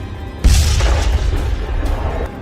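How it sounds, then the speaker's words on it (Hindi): A loud, deep bomb explosion booms suddenly in Islamabad, followed by a long rumbling roar that fades slowly over the next two seconds. "और ये दूसरा धमाका भी हो गया।"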